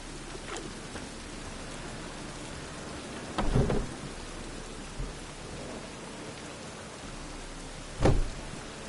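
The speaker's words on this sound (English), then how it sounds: "Looks like rain." Steady rainfall hisses in The Witcher 3, broken by two short rumbling thunder bursts partway through and near the end, with no voices.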